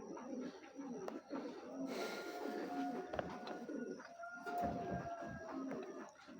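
Racing pigeon, a big-sized bird, cooing in low soft repeated coos, close by and fairly quiet, with light background clatter.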